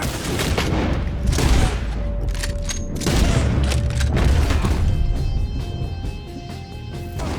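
Sustained gunfire in the Red Dead Redemption 2 video game, with dense bursts of shots and heavy booming impacts rolling continuously under a tense musical score, loud and close throughout.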